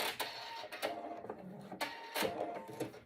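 Sewing machine stitching a 1/4 inch seam on patchwork fabric pieces for a numeracy ball, a steady mechanical whir of fast needle strokes with short pauses and restarts, close and fairly quiet, with no talking.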